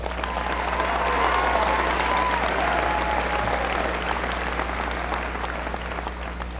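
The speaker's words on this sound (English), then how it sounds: "We want to give you all another round of applause" A graduation ceremony crowd gives sustained applause for graduating students, a dense, even wash of many hands clapping that swells slightly and then holds steady, heard in a large hall with a low hum beneath.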